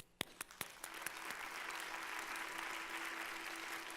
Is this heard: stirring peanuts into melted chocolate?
no